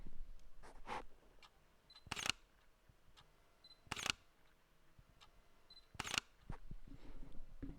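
A Sony A7R2 camera shutter with electronic front curtain fires three times at roughly two-second intervals, each a soft, quick mechanical click in a quiet room, with faint handling noises in between.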